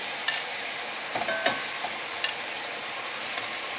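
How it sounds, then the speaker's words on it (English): Pork loin chops going back into a hot pan with apple miso caramel sauce give a soft, steady sizzle, with a few faint clicks and clinks of handling, close by and without talk. "Now, I'm going to return the meat, the pork, to the pan."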